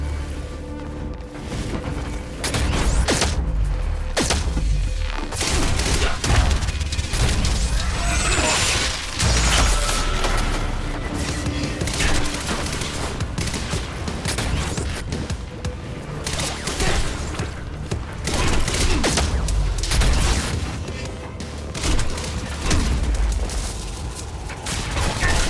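Burst-fire gunfire in the video game Quantum Break, rapid loud shots and booming impacts packed densely through the whole stretch amid mechanical clatter and crashes.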